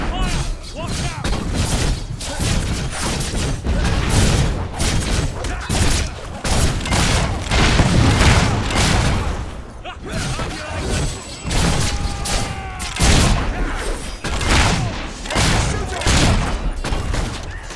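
Relentless battle noise in the video game Fable 3, with mortar blasts, booms and gunfire crackling in dense overlapping volleys for the whole stretch, loud and close, while shouting voices come through the din.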